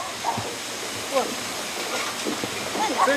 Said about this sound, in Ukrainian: От куди тече вода.